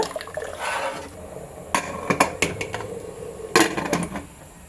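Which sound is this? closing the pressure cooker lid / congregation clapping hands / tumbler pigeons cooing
closing the pressure cooker lid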